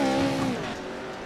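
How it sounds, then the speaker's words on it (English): A race car engine in the iRacing offroad game revs loudly, then the pitch falls and fades as it pulls away, heard alone over a short burst. "I hear an engine."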